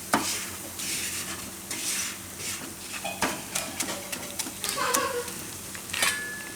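Maida flour being roasted in a pan for spaghetti sauce, with a spoon scraping and stirring it in repeated close strokes over a soft sizzle.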